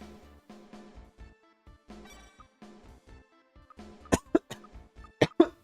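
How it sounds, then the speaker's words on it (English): Several sharp, loud coughs right into a microphone, bunched near the end after quieter throat noises and breathing, during a PS1 Tales of Destiny game session. "Coughing directly into the mic"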